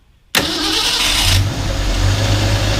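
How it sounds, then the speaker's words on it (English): A 1965 Ford Mustang with a noisy starter cranks on a cold start with a harsh whirring grind. It catches within about a second and settles into a loud, steady engine run close up. "noisy starter"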